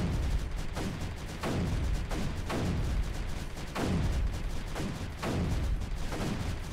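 Cannons fire repeatedly in the strategy video game Creeper World 3, sharp booming blasts roughly every second over a constant rumbling battle background with no talk.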